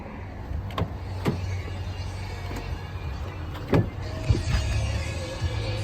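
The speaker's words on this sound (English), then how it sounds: "Power retractable rear window." A power retractable rear window on a 2008 Honda Ridgeline RTL 4x4 pickup hums steadily as it moves, a low motor drone lasting several seconds with a few faint clicks and knocks along the way.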